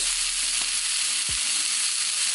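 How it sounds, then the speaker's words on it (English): Meat sears in a hot pan, a loud, steady sizzle throughout with no break. "Goal here is to sear. We want to get good color on both sides"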